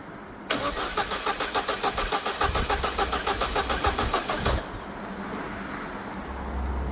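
A Vauxhall Corsa engine cranks for about four seconds in a fast, even rhythmic churn close by, without catching, then falls quiet.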